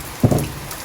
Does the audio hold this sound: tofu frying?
no